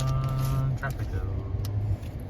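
Road traffic rolls past nearby as a low, uneven engine rumble that swells and fades, with a voice talking over it.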